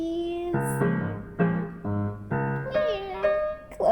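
A voice imitates a cat, drawing out a long, sing-song meow with a few rising and falling shifts in pitch.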